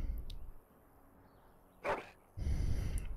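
A dog in the Dragon Age: Origins video game gives a single short bark, near and clear, between quieter stretches of low background sound.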